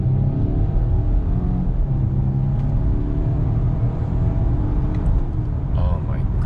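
A 2020 Volvo S60 T8 AWD plug-in hybrid with 640 Nm of combined torque accelerates hard, a steady loud engine rumble and drone filling the cabin throughout, with a rising whine near the end.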